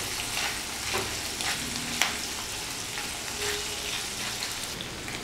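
Chicken malai kebab frying over a flame gives a steady, close sizzle with a dense crackling hiss and occasional louder pops, with no voices.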